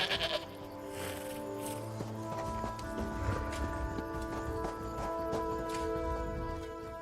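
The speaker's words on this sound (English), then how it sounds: "The horses are restless." Restless horses in The Elder Scrolls Online desert: a steady mix of hoof clops and bleat-like animal calls. Quiet game ambience with layered tones underneath.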